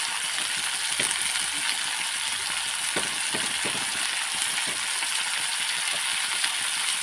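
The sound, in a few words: onions and chillies frying in a pan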